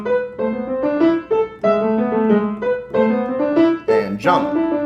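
Piano playing Burgmüller's Arabesque from measure 19 onward, a brisk run of short, detached notes and chords in quick succession, close and clear, with no talking.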